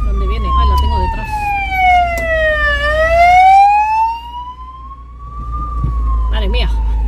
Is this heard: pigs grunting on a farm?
no